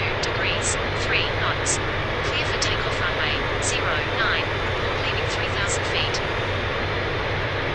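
Airbus A350 engines spooling up for takeoff in Real Flight Simulator, a steady loud broadband roar with a low rumble throughout, while radio voices speak over it.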